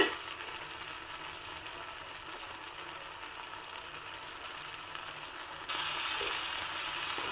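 Brinjal, tomato and onion masala fries steadily in a pan, a continuous close sizzle and crackle throughout that grows a little louder and brighter near the end, with no talking.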